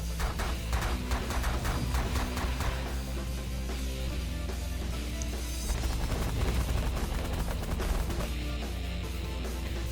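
Spaceship weapons fire in the space strategy game The Last Federation as a dense barrage of repeated rapid blasts, steady and busy throughout, layered over a constant low droning background.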